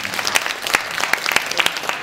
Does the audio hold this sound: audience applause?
yes